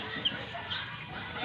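Week-old chicks on a provincial farm in the Philippines give two brief, high peeps over a faint background hiss.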